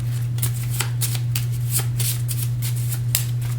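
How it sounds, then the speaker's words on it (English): Cards for the Camp Grizzly board game riffled in a quick shuffle, with a rapid run of crisp flutters and snaps over a steady low hum, close and alone. "Give these another quick shuffle."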